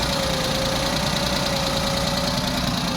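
A Maruti Alto car engine idles steadily and quietly, with a constant low hum and faint mechanical ticking throughout, and no talking.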